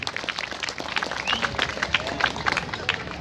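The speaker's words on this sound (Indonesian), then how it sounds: "Kita tepuk tangan kepada khususnya ketua panitia" Applause and clapping from a crowd at a Balinese Hindu ceremony in Serang, Banten, honouring the organising committee, a steady patter of many hands with some crowd murmur, fairly close and continuous.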